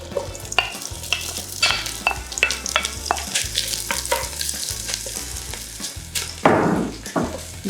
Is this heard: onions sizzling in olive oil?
yes